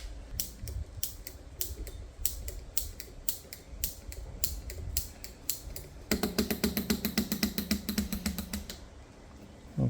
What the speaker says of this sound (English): I'll just run the gear a couple of times.